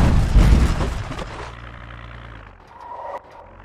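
A car engine in Project Zomboid cranks with a loud, rough burst, then settles into a low, steady idle hum that fades slightly toward the end.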